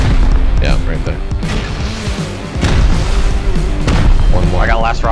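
Rocket explosions in the survival game Rust go off as heavy, booming blasts and crashes during a base raid, loud and repeated over several seconds, with players talking over the din.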